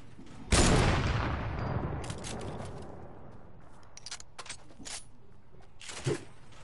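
One loud gunshot in Fortnite booms and trails off in a long, fading echo, followed by a few faint clicks and then a second, shorter shot near the end.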